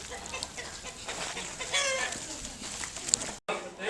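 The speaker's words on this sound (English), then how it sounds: "That's a strange hen, huh?" A hen at an outdoor folk park on St Patrick's Day clucks and chatters in a busy farmyard, mid-distance, with people talking faintly in the background.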